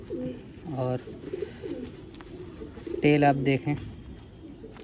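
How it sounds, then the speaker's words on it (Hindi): A slim domestic pigeon gives deep, resonant coos in short bursts, one early and a louder run near the end, close by, while someone talks in between. "तो ये वो कबूतर है, बहुत शानदार"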